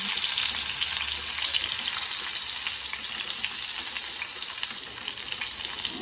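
Stuffed green chillies fry in hot oil with a loud, dense, continuous sizzle and crackle, close and steady with no voices.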